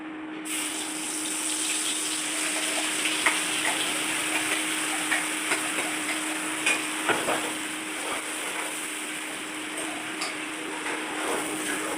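A spiced paste for palak paneer gravy frying in a pan, a steady close sizzle with a faint continuous hiss and scattered small ticks and pops throughout, no talking.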